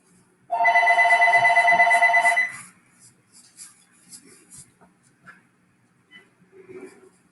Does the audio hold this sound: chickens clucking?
no